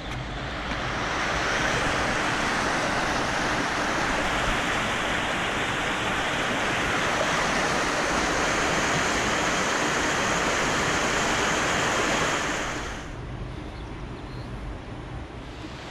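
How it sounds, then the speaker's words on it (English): Water pours steadily over Brightside Weir on the River Don in Sheffield, a loud, continuous broadband rush that holds for about twelve seconds before dropping away to a softer background. "And this is Brightside Weir."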